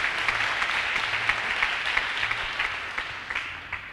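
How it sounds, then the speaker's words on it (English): A church congregation claps for mothers during a sermon, steady dense applause of many hands, fairly loud and continuous throughout. "Let's give a clap to all the mothers."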